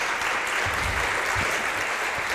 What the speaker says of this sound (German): bitte nochmal einen warmen Applaus von Annette Mühlberg